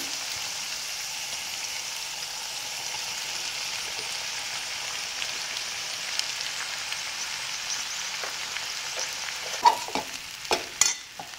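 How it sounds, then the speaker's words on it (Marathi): Sabudana, potato and crushed peanuts stir-fried in a pan, giving an even, steady sizzle that grows busier near the end with a cluster of sharp spatula scrapes and clicks, no voices. "पुन्हा एकदा हे छान सगळं परतून घेऊया आपण।"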